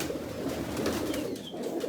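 Soft, low cooing from a racing pigeon repeats steadily beneath a constant hiss of background noise.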